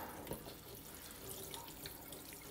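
Hot shower water runs with weak pressure, a steady, fairly close hiss of flowing and splashing water with no speech over it.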